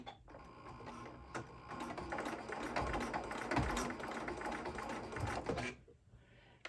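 A sewing machine back tacks through fabric while stitching a Boston bag, running as a steady, dense mechanical whir of rapid needle strokes for about five seconds before stopping.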